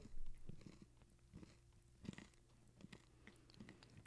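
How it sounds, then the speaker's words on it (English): Gentle chewing of a last bite of food close to a microphone, with soft crunchy bites repeating every second or so over a steady low hum. "that's some gentle chewing"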